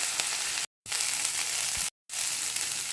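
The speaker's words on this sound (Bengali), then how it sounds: "এই ফুলগুলো এবার দিয়ে দিচ্ছি। দিয়ে এটাকে একটু ভাজবো" Drumstick flowers frying with potato in a hot pan give a bright, steady, close sizzle, interrupted by two short cuts to silence.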